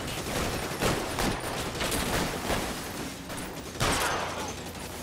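Gunfire crackles during a shootout in the video game L.A. Noire, several close bursts of shots in irregular rhythm over dense background noise.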